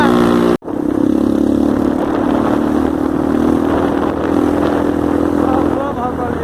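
A Honda Bros motorcycle on a dirt trail runs loud and close after a brief cutout, its engine droning steadily with mild rises in pitch as it pulls forward.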